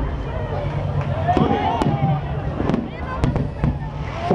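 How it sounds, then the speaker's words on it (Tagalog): Fireworks at the Kalutan ed Dalan street celebration of the 2011 Bangus Festival: repeated sharp bangs and crackles over a loud, steady crowd hubbub and a voice speaking over a PA. "Fireworks."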